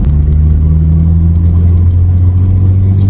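A VW Passat B3 with a PD150 diesel engine pulls hard under acceleration, a loud steady low drone filling the cabin from start to finish.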